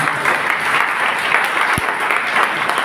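An audience claps after a legend-telling evening from southern Jalisco, a full, even burst of applause from many hands with one low thump partway through.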